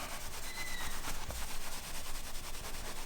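A hand rubs over pressed metallic puff heat transfer vinyl in a steady scraping, brushing stroke for about three seconds, close up and alone.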